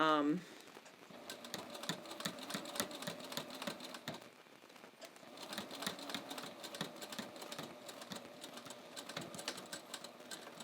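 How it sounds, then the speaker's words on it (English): A sewing machine stitches along the ends of a waistband on pull-on pants, joining stretchy and non-stretchy fabric, with a fast, steady rattling hum running in two long bursts separated by a brief pause. "I'm just going to stitch right along the ends of the"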